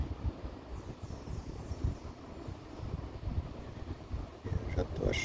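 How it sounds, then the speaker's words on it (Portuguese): Strong wind gusting outdoors beside a motorcycle, a steady low roaring rumble buffeting the microphone throughout, swelling at moments and louder near the end. "o problema é todo é que o vento aqui tá muito forte"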